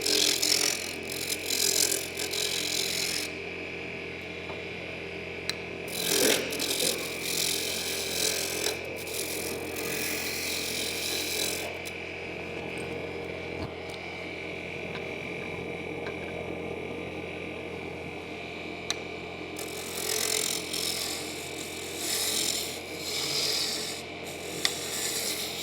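A roughing gouge cuts a spindle of wood turning on a lathe, giving a continuous rasping scrape with bursts of brighter cutting noise over a steady motor hum, near and moderately loud.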